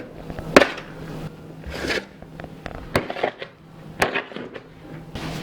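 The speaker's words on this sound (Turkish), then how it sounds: "Önce şöyle kaşıkla bir karıştıralım." A spoon stirs tarhana flour dough in a bowl, making scraping, knocking clatters at an irregular rhythm, close and fairly loud, with sharper clicks now and then.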